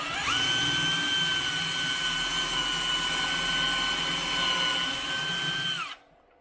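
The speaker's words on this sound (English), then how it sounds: "just run the bit in all the way up to the edge of this kind of lip here" A power drill runs a countersink bit into wooden crate boards, a steady high whine that holds for about six seconds before cutting off abruptly, close and alone.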